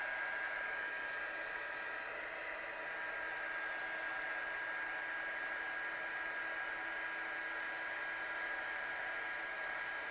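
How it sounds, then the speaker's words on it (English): Heat gun used for heat embossing a stamped image, blowing with a steady, faint, even whirring hiss that runs unbroken for the whole stretch, with no talk over it. "I'm just going to heat emboss that one."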